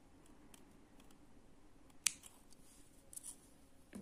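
Scissors snip thread in Turkish needle lace (iğne oyası) work, one sharp close cut standing out over a quiet room with a few faint clicks and handling sounds.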